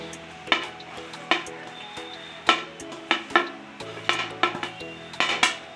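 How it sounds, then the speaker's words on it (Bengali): Amla gooseberries are stirred in sugar syrup in a pan over medium heat, with repeated sharp scrapes and clinks of a spoon against the pan over a soft bubbling sizzle. "গ্যাসটা আমি মিডিয়ামে রেখে এবার আমি নাড়াচাড়া করব।"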